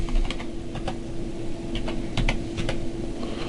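Typing on a computer keyboard in a quiet room, a short run of light, irregular key clicks over a steady low hum.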